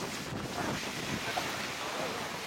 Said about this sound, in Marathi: आणि वारो तर जबरदस्त लागता